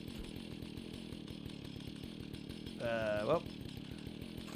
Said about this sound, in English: So we can chainsaw him.